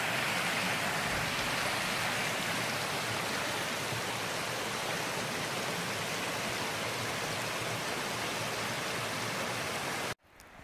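A mountain stream beside a hiking trail between Erwin and Cherry Gap shelter gives off a steady, full rush of flowing water that stays loud and unbroken, then cuts off abruptly near the end.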